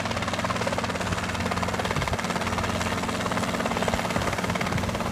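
A helicopter hovers low over a tarmac to blow away freshly mowed grass, its rotor making a loud, steady throbbing chop close by throughout.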